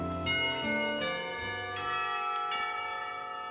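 A school lunch bell from the video game Katawa Shoujo rings with rich sustained tones, several struck notes overlapping and ringing on for a few seconds without any talk.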